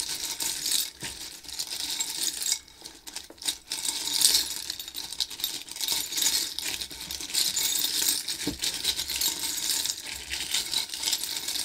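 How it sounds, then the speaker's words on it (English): Small metal tarot charms clattering as they are grabbed and let fall, a busy run of close, bright jingles and clicks that goes on throughout with no talking. "Now we're gonna grab some charms."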